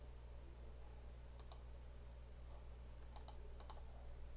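A computer mouse clicked during work in Excel, with a single sharp click and then a quick cluster of three light clicks over steady background hum.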